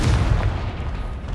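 A Confringo explosive spell goes off in the video game Hogwarts Legacy, a loud booming burst with a deep low rumble that decays over a second or so.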